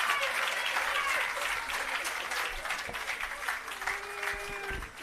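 An outdoor crowd applauds Prime Minister Holness at the commissioning of the Parnassus irrigation system and agro park in Jamaica, a fairly faint, sustained patter of clapping with scattered louder claps and a voice briefly rising near the end.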